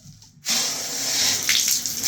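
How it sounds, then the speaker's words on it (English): A cold-water tap suddenly opens after a brief quiet, and water gushes steadily into a sink, loud and close, with a few splashy surges. "cold water running, but no hot."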